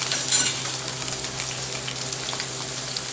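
Pan-seared salmon fillet sizzling steadily in a hot skillet, a continuous close frying hiss with no voices throughout.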